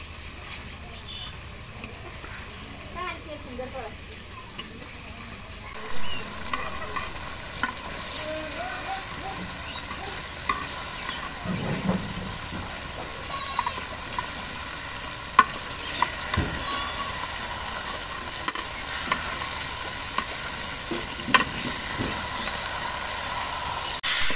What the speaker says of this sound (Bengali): এখন এই যে মশলা কষানি হয়েছে, এখন পোলা চালটা দিই